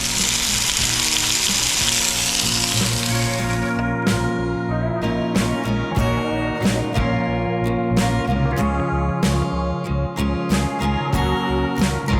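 Sausages fry in a pan at a wild campsite on a road trip, a loud, steady sizzle close by with irregular crackles and spits running throughout.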